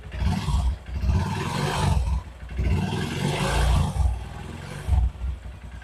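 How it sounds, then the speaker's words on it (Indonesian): Honda CB150 Verza motorcycle engine, cold oil just after starting, revved up in a few loud rising bursts close by, each swell holding briefly before dropping back, with no talking. "Ini saya akan langsung coba naikkan gasnya."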